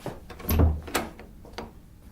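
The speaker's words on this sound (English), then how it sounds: "There I took the CD from his desk and opened the office door." An office door sound effect in an audiobook: a close wooden knock and thud as the door is worked, then a softer click and creak that fade, with no talking.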